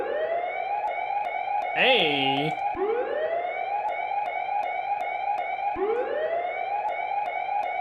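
A synthetic siren-like tone from an Incredibox mod music game sweeps upward over and over in a looping rhythm over a steady buzzing drone, with a brief warbling burst early on and a voice speaking once over it.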